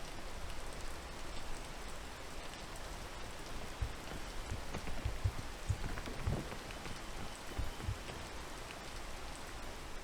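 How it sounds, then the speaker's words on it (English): Rain falls steadily in the video game Peak, a constant patter of drops on surfaces with occasional heavier taps, heard alone at moderate volume. "It's slippery when it's raining or what?"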